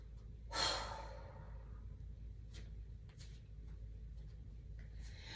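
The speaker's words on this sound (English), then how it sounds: "And then exhale, blow it all the way away." A single deep exhale during a guided breathing exercise, a close, breathy rush that swells early and fades, followed by quiet room tone with small rustles.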